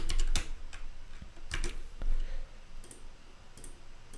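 Someone typing and clicking on a computer keyboard, sharp irregular keystrokes in short bursts with pauses between them, close and clear in a quiet room.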